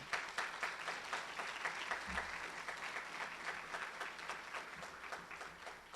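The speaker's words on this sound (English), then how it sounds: "please give them a round of applause" An audience at a July 2021 graduation ceremony gives a round of applause for team members seated at the back of the room, sustained dense clapping that stays fairly quiet and even from start to finish.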